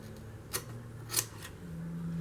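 Scissors trimming upholstery material around the arm of a rocking chair, two or three crisp snips, close and quiet, with no talk.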